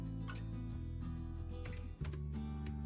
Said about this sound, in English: So that is what I'm going to type,